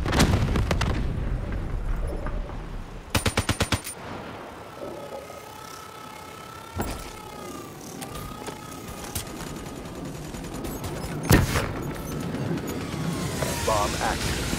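Hellstorm missile strike in Call of Duty Black Ops 3 multiplayer, with rumbling explosions and gunfire throughout, a rapid burst of shots early on and a heavy boom later, under intermittent voice chatter.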